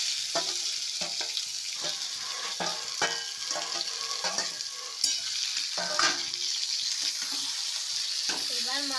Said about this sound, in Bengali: এবার মাংসটা আমি ভালোভাবে কষিয়ে নেব।